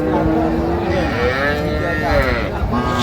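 A cow moos loudly and close by at a busy rural cattle market where cows are sold with their calves, one long drawn-out low call filling the moment.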